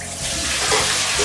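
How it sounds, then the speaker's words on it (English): Cooked rice noodles drained in a kitchen sink for shrimp pad thai, with a steady close rush of water splashing through them and pouring down the drain, no talk. "my noodles look like they're softened as much as they're going to be, so it's time to drain them"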